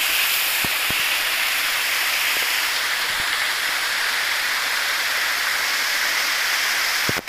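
Muddy rainwater pours across the ground after a rain shower, making a steady, loud, broadband rushing wash that runs without a break from start to finish, with a few faint clicks now and then.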